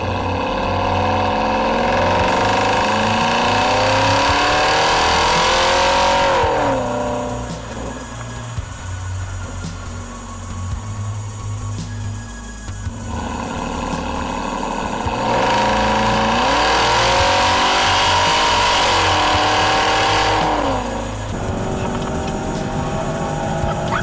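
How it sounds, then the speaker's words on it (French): A car engine revs hard through rising gears, climbing in two long surges, each followed by a drop back toward a lower, rougher idle, loud and close with no talk. "Vraiment le bruit du moteur il est magique."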